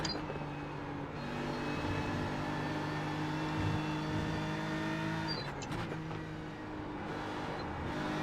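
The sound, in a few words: GT3 race car engine in iRacing video game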